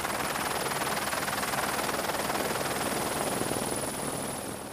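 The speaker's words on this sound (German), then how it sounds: "In diesem Gelände kann der Helikopter nicht landen." A rescue helicopter hovers close by over rough mountain terrain, its rotor producing a steady, loud, broadband roar that continues without a break.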